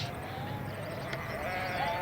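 Spring lambs bleating on a hill-country sheep farm during mustering, a steady mix of faint and mid-distance bleats over open outdoor background noise, with no talk.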